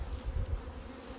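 Honey bees buzzing close by during a late-February hive inspection, a dense, loud, steady drone with slight pulsing swells and no voices.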